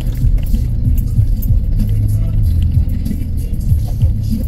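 Loud, close road traffic rumble from a motorcycle rider's position, with continuous low engine drone and passing vehicles shifting in pitch, no talk.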